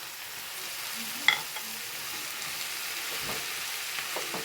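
Onions and green chilies frying in a pan on the stove, a steady close sizzle with a brief clatter as they are stirred, continuing evenly without talk.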